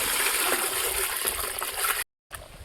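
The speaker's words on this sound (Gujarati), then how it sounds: "એમાં પાણી નાખીને ઓગાળી લેશું" Water is poured into a bowl holding two handfuls of soil to dissolve it for jivamrut: a continuous close splashing trickle that cuts out briefly near the end, then resumes.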